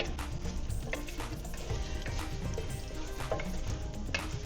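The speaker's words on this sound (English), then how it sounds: "And you see how it's starting to sizzle?" Mung beans and seeds sizzle steadily in a hot pan, a continuous crackling fry with light stirring scrapes close by and no talking.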